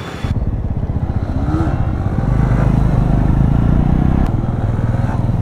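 A motorcycle engine runs loud and close for a wheelie stunt, a steady throbbing idle that swells into sustained revving midway and holds strong before easing slightly near the end.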